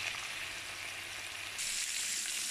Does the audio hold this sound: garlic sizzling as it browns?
yes